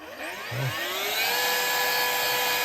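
An XREXS portable handheld vacuum switches on and spins up to a high, whining jet-like drone that rises in pitch and then holds steady, loud and close, with no talk.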